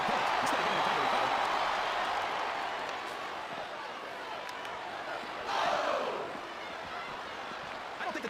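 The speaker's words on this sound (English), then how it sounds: "Wow, listen to these fans, JR." Wrestling crowd noise from the WWE SmackDown vs Raw 2007 video game, a broad continuous roar of cheering fans that swells briefly midway, with the clip mostly made up of the crowd sound.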